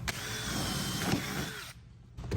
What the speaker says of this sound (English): I'm gonna go ahead and drill my hole through the deck.